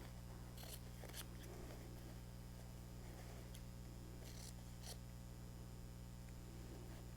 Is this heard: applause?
no